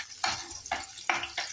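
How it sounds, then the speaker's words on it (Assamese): Chopped onion and a green chilli fry in hot oil, a close crackling sizzle that swells in four quick rhythmic bursts as the pan is stirred. "এয়া নহৰুটো দিছোঁ দেই তেলত, সৰু সৰুকৈ কাটি ল'লোঁ, কেঁচা জলকীয়া এটা দি দিছোঁ"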